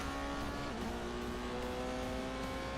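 A Ferrari race car in The Grand Tour video game, a steady, loud engine drone with a sustained tone holding throughout, heard alone without talk.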